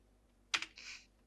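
Keys clack on a computer keyboard as a git command is typed at a terminal: a couple of sharp, close keystrokes, then a short quick burst of typing, with no talking.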